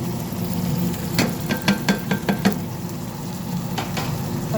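Chicken goes into a hot pan for Arabic-style afritada, with a continuous sizzle and a quick cluster of sharp clinks and taps from a utensil against the pan partway through, close and fairly loud, no talking.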